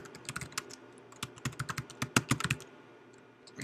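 Keystrokes on a computer keyboard as a password is entered, irregular quiet clicks in short bursts that trail off into silence, close and alone.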